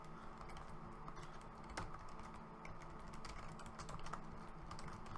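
Keystrokes on a computer keyboard as a mod name is typed in Mod Organizer, a steady run of close, quiet clicks going on throughout with no voice.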